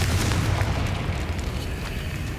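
A Confringo spell explosion in the video game Hogwarts Legacy hits as a dense, rumbling blast that fills the whole moment with steady low roar and crackle, loud and close, with no talking.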